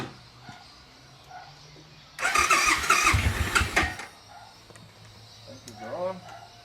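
An engine cranks and catches after a jump start, a loud burst of starting and revving for about two seconds before dropping to a quiet background hum, with a voice speaking near the end.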